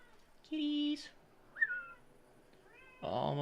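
Two house cats meow indoors in several separate cries: a long steady meow, then a short one, then a louder one at the end, all close and with quiet gaps between them.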